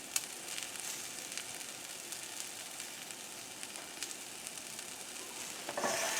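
Pork juices and fat sizzle steadily in a hot pan, a bright continuous hiss with small crackles throughout, swelling louder at the very end.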